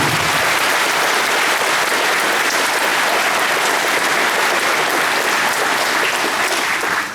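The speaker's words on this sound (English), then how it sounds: "we have another round of applause," Sustained loud applause from an audience at a high school valedictorian and graduation ceremony, dense steady clapping filling the whole stretch without a break and tapering slightly at the very end.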